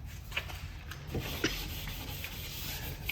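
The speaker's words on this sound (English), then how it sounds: "I like every edge sanded." Hand sanding along the cut edge of a Tyvarian wall panel: soft, rasping rub strokes in short scattered passes, close by, over a low steady background hum with no talking.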